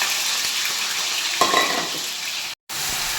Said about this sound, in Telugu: ఇలా ముందుగా ఈ మసాలాని బాగా ఫ్రై చేసుకోవాలి ఫ్రెండ్స్